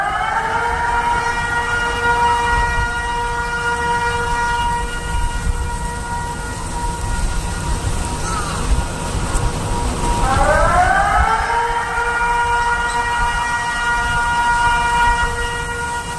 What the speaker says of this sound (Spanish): vamos a escuchar algunas de las alarmas, de las sirenas que se han escuchado alrededor del mundo, diciéndole a la gente, pilas, que hay alerta de tsunami